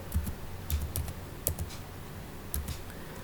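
Typing an SQL update command on a computer keyboard during a MySQL class, a run of close, crisp key clicks in irregular bursts with short gaps, steady and moderately loud with no voice.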